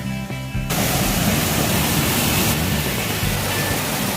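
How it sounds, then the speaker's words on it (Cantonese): A waterfall on Amami Oshima roars as a dense, steady rush of falling water that abruptly swells to full loudness and stays constant. "到咗瀑布啦！"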